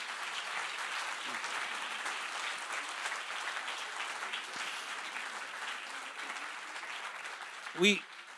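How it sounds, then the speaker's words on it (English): A sustained round of audience applause at a book talk with historian Peter Frankopan, even and continuous from a fairly distant crowd, ending with a short bump near the end. "Please, a big round of applause for Professor Peter Frankopan."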